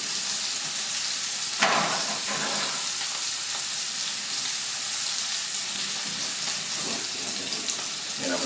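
Scallops sizzle steadily in a hot pan, a dense, even frying hiss across the whole stretch with a couple of brief scrapes or clinks near the start and later.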